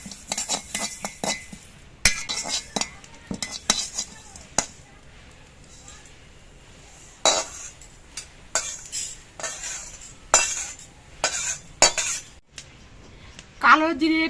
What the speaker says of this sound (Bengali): শুকনো কড়াইতে কিছু পরিমাণ কালো জিরে ভেজে নিচ্ছি।